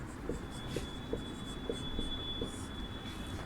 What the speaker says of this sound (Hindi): यहाँ पर हम लोग लिखेंगे